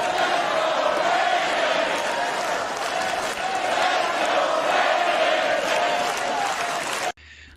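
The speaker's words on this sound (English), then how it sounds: "a full crowd of grown adults chanting "Let's go, Brandon"" A full crowd of grown adults chants "Let's go, Brandon" in a loud, continuous roar that fills the space. Applause-like noise runs through it before the sound cuts off abruptly near the end.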